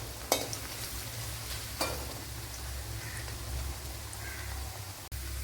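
Ginger frying in a pan for an Alappuzha-style inji curry gives a steady, close sizzle throughout, broken by a few brief scrapes and clicks of a stirring utensil.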